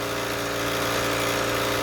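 A blade sharpener grinds a Gator mower blade with a steady, unbroken mechanical whine and hum, close and constant throughout, no voices.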